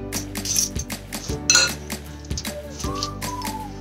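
A spoon clinks and scrapes against a bowl while a salad is tossed with sauces, a few close, bright metallic taps and rattles at an irregular pace.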